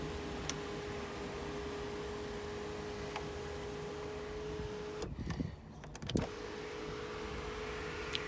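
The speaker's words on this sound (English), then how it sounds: "We'll go ahead and test out this sunroof real quick." A car sunroof motor runs as the glass panel opens, a steady electric whine holding for about five seconds, then a short pause and a few clicks and a thump near the end. Close and fairly quiet, with no talk.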